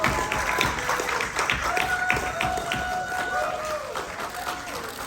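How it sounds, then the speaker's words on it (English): Crowd applauding Michelle Yeoh at her homecoming event in Kuala Lumpur, a busy, sustained clapping wash with cheering and a voice speaking over it throughout. "Please join me, everyone, in giving a big thank you. Round of applause to Michelle Yeoh, everyone."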